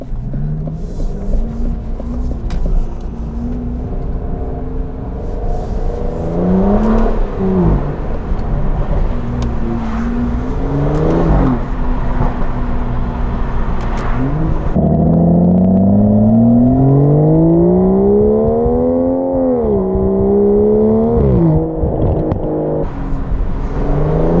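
An Aston Martin DBS Superleggera with roughly 700 horsepower in Sport Plus mode pulls hard from inside the cabin, its engine note rising through the revs with gear changes, then a long, loud climbing surge that peaks and drops off.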